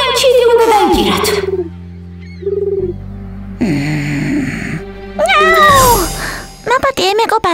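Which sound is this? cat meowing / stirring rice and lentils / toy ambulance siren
cat meowing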